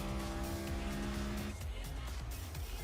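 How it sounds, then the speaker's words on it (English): An iRacing race car breaks loose and slides sideways at Darlington, with a loud engine drone cutting off into a broad, rasping tire scrub that carries on steadily to the end. "I heard a car sideways right there"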